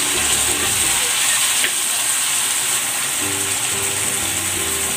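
Pork marinade pours into a hot pan, giving a steady, fairly loud hiss and sizzle that holds for several seconds with faint clatter beneath.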